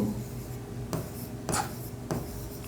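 A pen writes a number by hand on paper during an accounting lesson, giving a few short, faint scratchy strokes in quick succession close by.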